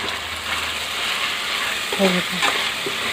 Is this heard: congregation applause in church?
no